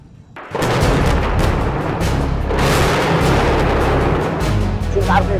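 Bombs exploding in Lebanon during an airstrike: a heavy, continuous rumble of booming blasts that swells and rolls on for several seconds, loud and dense, with no voices over it.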